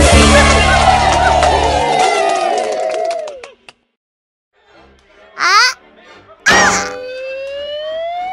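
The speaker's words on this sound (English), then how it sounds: "Ring. Ring. Bell." A bell rings in an educational word video game: two bright, ringing chimes with a clear metallic tone, each sounding about a second, after a loud burst of game sound and a short silence.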